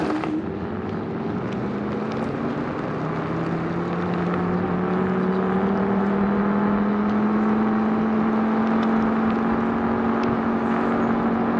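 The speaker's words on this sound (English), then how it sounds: "my first ride on the Eisenwheel GT2 1000 watt electric scooter" Riding a 1000-watt Eisenwheel GT2 electric scooter: a loud, close motor whine that climbs steadily in pitch as it speeds up, over constant rushing wind and road noise.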